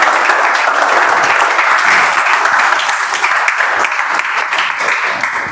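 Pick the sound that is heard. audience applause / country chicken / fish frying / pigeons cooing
audience applause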